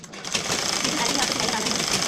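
Sewing machine running steadily while stitching the lining of a simple blouse, a continuous close mechanical whir that holds for the whole stretch, with speech over it.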